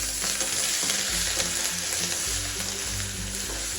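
Garlic, ginger paste and chillies dropped into hot oil: a loud, dense, steady crackling sizzle close by, with a low hum underneath and no voices.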